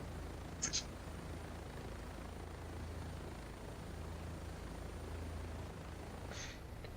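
A helicopter in a combat flight video game hums with a steady, low rotor drone throughout, fairly faint and constant, with a couple of brief sharp clicks near the start and end.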